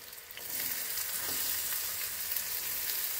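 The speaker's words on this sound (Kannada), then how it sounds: "ಆಮೇಲೆ ಸಣ್ಣದಾಗಿ ಹೆಚ್ಕೊಂಡಿರೋ ಈರುಳ್ಳಿ ಹಾಕ್ತಾ ಇದ್ದೀನಿ." Finely chopped ginger and onion fry in a pan with a little oil, giving a steady, close hiss and sizzle that swells after the first half second and holds evenly, with no talk.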